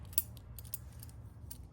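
Leaf Shave Leaf Two razor head sliding and popping open: a few small, crisp mechanical clicks and ticks, close but faint, spread unevenly over a quiet background hum with no voices.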